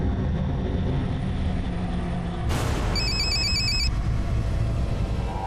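An electronic telephone ringer trills in a short burst of repeated high tones at a moderate level, set over a steady background hum and rumble.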